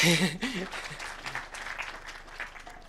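A voice briefly speaks at the start, then a crowd at a foundation launch event breaks into steady applause that continues as a dense patter of clapping.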